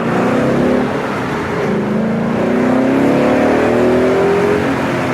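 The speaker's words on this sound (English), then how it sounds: "This is the best part about owning a muscle car. It purrs" A Ford Mustang muscle car engine revs up and down in steady, rising sweeps, a loud continuous rumble close by with no talking.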